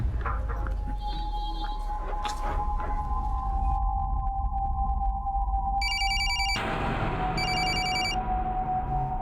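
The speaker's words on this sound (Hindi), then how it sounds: "शोएब, प्लीज मेरा फोन पिकअप करो, अर्जेंट है।" A phone rings in a tense crime drama scene, its electronic warble repeating in two bursts over a steady low drone and tonal background music.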